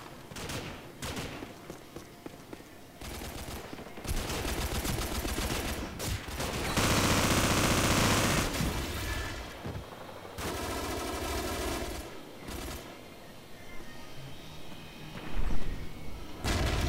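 Bursts of heavy automatic fire from a mounted M249 SAW machine gun rattle in Call of Duty: Modern Warfare, loud and close, with sustained volleys broken by short pauses and scattered single shots.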